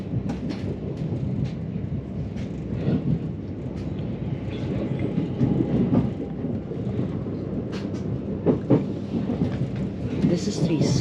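Southern passenger train pulling into the main platforms at Kensington Olympia station in London, a rumbling, rattling roll with irregular clanks and knocks that swells and eases as it comes in.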